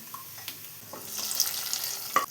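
Curry leaves and spices fried in hot oil are poured into a potato and chickpea roasted-coconut curry, setting off a short burst of close, loud sizzling that swells over about a second.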